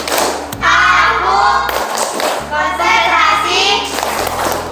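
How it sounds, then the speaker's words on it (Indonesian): A classroom group performs tepuk konsentrasi, a rhythmic concentration clapping routine. Close, loud claps and thumps come in patterned bursts as voices chant along in time. "Oke, tepuk dimulai. Tepuk konsentrasi."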